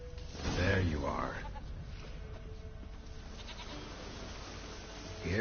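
A goat in The Witcher 3 video game gives a drawn-out bleat near the start, then fainter bleats, set against steady game ambience and intermittent talk.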